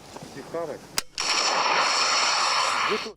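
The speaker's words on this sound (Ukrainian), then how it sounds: "Стріляти з РПГ виявилося не дуже важко" An RPG grenade launcher fired during military training: a single sharp blast followed by a long, loud roaring whoosh that fades after a couple of seconds, with brief voices before and after.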